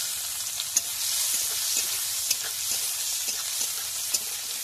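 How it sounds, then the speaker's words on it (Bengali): Chopped onion fries in oil with a steady bright sizzle, while a spatula stirs it in regular scraping strokes and a few sharper clacks against the pan. "এবারে পেঁয়াজ দিয়ে দেবো"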